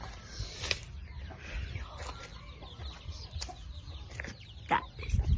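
Chickens clucking in a cage outdoors, scattered soft clucks and short calls at close range over low background rumble, with no talk.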